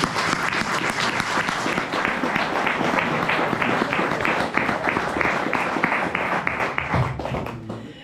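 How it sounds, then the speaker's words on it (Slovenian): An audience at a hunters' choir concert applauds steadily throughout, dense clapping filling the hall without pause. "da lahko še enkrat zaploskamo"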